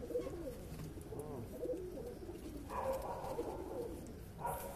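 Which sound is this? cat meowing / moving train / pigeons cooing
pigeons cooing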